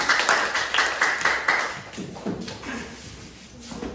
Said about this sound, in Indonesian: Tepuk tangan untuk kawan kalian